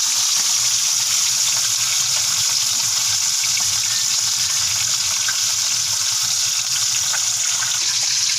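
Two tilapia fish fry in hot oil in a pan, giving a steady, loud hiss and crackle that runs without a break throughout.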